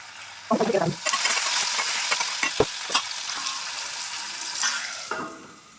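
Ginger garlic paste hitting a hot pan for a chicken and egg curry, a sudden loud sizzle that settles into steady frying with several sharp stirring clicks and scrapes close by, no speech.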